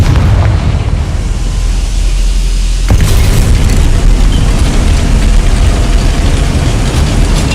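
A Confringo fire spell in Hogwarts Legacy erupts as a loud, sudden boom about three seconds in, followed by sustained crackling, rumbling blast noise that fills the rest of the moment.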